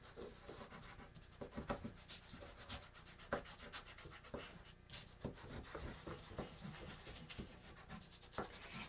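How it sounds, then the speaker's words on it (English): A finger rubbing chalk into paper, a steady run of soft, close, dry scrubbing strokes in quick rhythm, quiet and alone with no voices. "I like rubbing the chalk with my finger."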